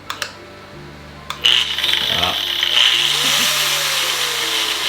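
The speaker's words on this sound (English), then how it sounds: "Grab the angle grinder. Let's see if it turns on." An angle grinder in an off-grid workshop, preceded by a few sharp clicks and knocks, spins up abruptly and keeps whining steadily, close and loud, for the rest of the clip.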